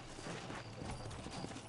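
Horse hooves clip-clop steadily in Red Dead Redemption 2, set against a dense, noisy game soundscape with no clear talk.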